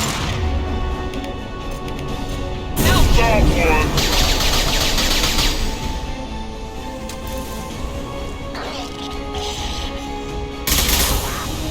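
Rapid bursts of gunfire in a Mass Effect 2 firefight on Omega, with louder volleys near the start and end over a steady bed of game music and effects, while squad voices call out in between.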